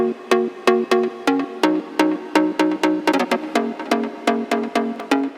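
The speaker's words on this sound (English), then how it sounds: "Pluck types of sounds usually sound something like this." A house-style pluck synth plays a bouncy pattern of short, bright notes that decay quickly, with a quick flurry of rapid hits in the middle, loud and alone.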